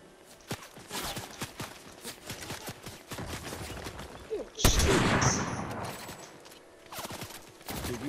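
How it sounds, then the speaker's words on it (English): Rapid bursts of gunfire in Fortnite, many sharp shots crackling in quick irregular clusters, with a louder close blast midway and more scattered shooting continuing after. "dude, you already got those people shooting"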